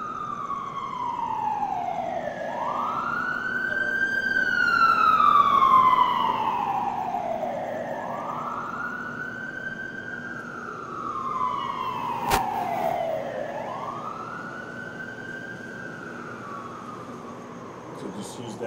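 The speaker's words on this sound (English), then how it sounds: "Wild sound siren." An emergency vehicle siren wails in a slow, repeating rise-and-fall pattern, three long sweeps at steady moderate loudness with traffic rumble underneath, recorded on its own as wild sound on a film set.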